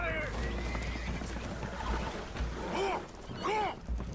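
Spooked horses in Red Dead Redemption 2 whinny in two sharp, rising neighs near the end, over a rumbling background of water and movement.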